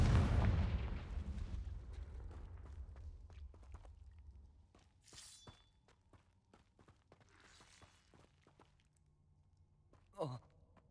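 Confringo spell explosion in the Hogwarts Legacy video game: a loud, booming blast that opens the clip and rumbles away over several seconds, followed by scattered small impacts and a brief burst near the end.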